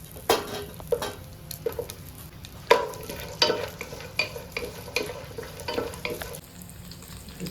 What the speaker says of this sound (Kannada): ಇದನ್ನು ಫ್ರೈ ಮಾಡಬೇಕು ಹೆಚ್ಚು ಬ್ರೌನ್ ಆಗಬಾರ್ದು ಒಂದು ಎರಡು ಮೂರು ನಿಮಿಷ ಫ್ರೈ ಮಾಡಿದರೆ ಸಾಕು